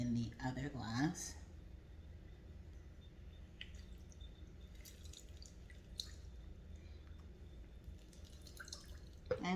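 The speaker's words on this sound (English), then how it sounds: "I'm gonna rinse out the seeds that are here on the bottom and then do the other glass" Water running and dripping in a sink while lemon seeds are rinsed out of a glass, with faint splashes and intermittent drips, and soft clatter at the start.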